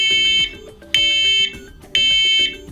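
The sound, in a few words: First Alert smoke alarm 85 decibel T3 pattern chirp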